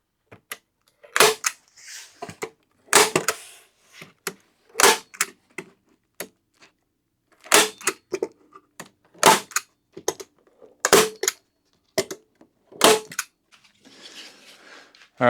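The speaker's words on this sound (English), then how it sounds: "staple it on" A staple gun fires repeatedly while fastening material onto a small wooden free library box, giving about a dozen sharp, close snaps at irregular intervals with silence between shots.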